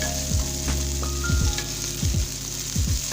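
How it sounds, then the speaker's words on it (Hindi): Ginger garlic paste sizzles steadily as it is sautéed in a pan, a continuous frying hiss broken by repeated scraping strokes of stirring. "अब हम इसमें अदरक लहसुन का जो पेस्ट किया था वो डाल देंगे। इसको भी सौते करेंगे।"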